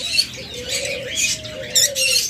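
Aviary birds, including budgerigars, diamond doves, lovebirds and cockatiels, fill the air with a steady soft cooing tone under scattered sharp chirps and brief chattering bursts, close and lively.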